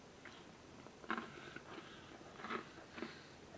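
Several quiet, close bites and chews into crunchy homemade French bread pizza topped with pepperoni, mushrooms and anchovies, with short crisp crackles spaced about a second apart and no talking.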